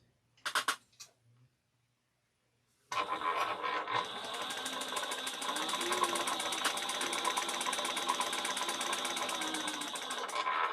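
A sewing machine runs at a fast, even pace top stitching a travel bag panel at a four stitch length, a rapid rattling hum lasting several seconds after a short burst of handling noise and a silent pause.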